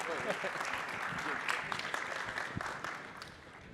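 Audience applause at a Portuguese-language business presentation: dense, sustained clapping from a crowd filling the room at moderate volume, steady throughout with no speech over it.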